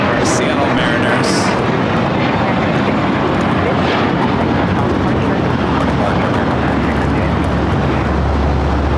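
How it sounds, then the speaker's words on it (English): A Boeing 737 MAX 9 airliner, brand new and arriving from Cabo at LAX, passes as a loud, steady broadband jet roar that fills the whole stretch, with a deep rumble building toward the end. "Coming in from Cabo, 737 MAX 9, I believe, and this aircraft is brand new"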